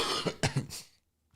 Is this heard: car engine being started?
no